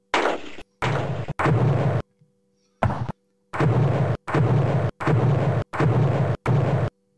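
Artillery shells pound an infantry unit in a World War One strategy game, heard as a string of about nine loud, broad bursts of similar length with short gaps, including one longer pause, and no talking.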